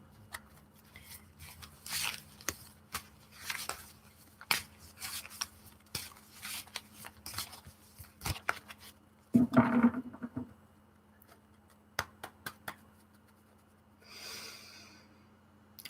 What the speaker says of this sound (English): I'm going to shuffle my cards for you